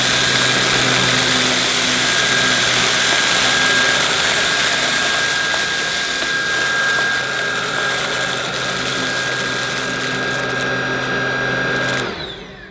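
A Roidmi R10 cordless vacuum cleaner runs on its default setting over a rug strewn with sand, a steady close motor whine with a high tone that holds level, then cuts off abruptly near the end.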